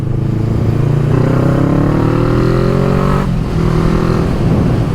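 A motorcycle accelerates hard to overtake a car, its engine loud and close with rising revs, a brief dip at a gear change, then climbing again.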